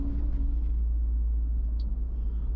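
Low, steady road rumble fills the cabin of a 2020 Toyota Fortuner TRD Sportivo on the move, a constant muffled drone with no talk over it.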